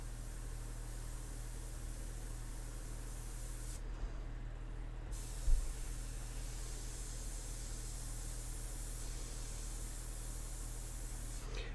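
An airbrush sprays ink onto a portrait painting as a faint, steady airy hiss over a low hum. The hiss briefly cuts out partway through, then resumes.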